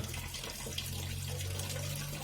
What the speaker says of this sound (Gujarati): પાણી ધીરે ધીરે આવે